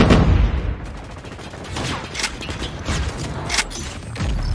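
Gunfire in the mobile shooter Call of Duty Mobile, battle royale mode: dense bursts of shots and crackling fire over a busy game soundscape, loud and continuous across the whole stretch.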